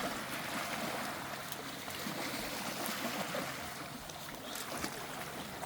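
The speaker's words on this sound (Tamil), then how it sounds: "2 போட் பாருங்க, மீன் பிடிக்க போய்கொண்டிருக்குது." Two fishing boats pass out at sea, a faint, distant wash of water and low engine rumble that continues steadily under open-air ambience, with no voices.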